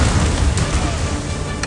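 A sustained, loud rumbling blast from the ion cannon superweapon in the mobile strategy game Command & Conquer: Rivals, a dense low roar lasting throughout with no voices.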